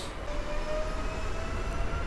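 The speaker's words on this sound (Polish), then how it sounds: "Rusza skład służbowy, a my idziemy dalej." A service train pulls away from a platform at the Warszawa Zachodnia suburban station, giving a steady, continuous rumble of rolling stock with a faint tonal whine running through it, close by and without talk.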